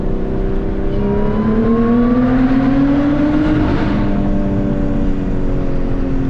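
A 2021 Lotus Evora GT engine revs loudly and steadily climbs in pitch, its roar echoing and reverberating in a tunnel throughout.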